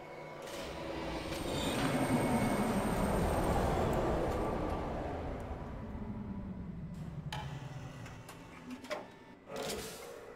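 A train arriving in the Riven video game: a loud mechanical rumble and rattle that swells over the first few seconds, then slowly fades, with a few clanks and thumps near the end.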